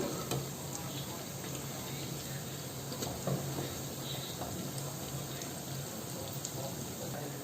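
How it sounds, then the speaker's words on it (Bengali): Onion fritters (piyaju) crackle and sizzle steadily in hot oil in a kitchen pan, a dense continuous frying hiss that stays even and close throughout, with no voices. "গরম তেলে দিয়ে দিলাম। এই যে ভেজে নেব, এইভাবে পেঁয়াজগুলো এভাবে করে ভেজে নেব"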